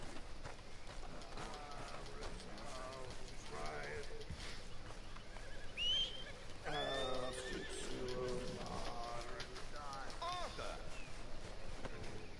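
Horses in the Red Dead Redemption 2 video game whinny and neigh several times, with clip-clopping hooves throughout and game voices speaking over the top.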